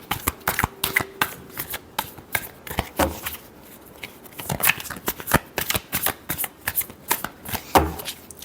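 Tarot cards being shuffled by hand in repeated crisp riffling bursts and slaps, close and steady throughout, with no talk over them.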